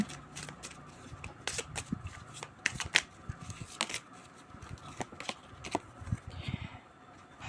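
Tarot cards are shuffled and drawn close by, with crisp riffling flicks and soft slaps scattered unevenly over several seconds and no talk over them.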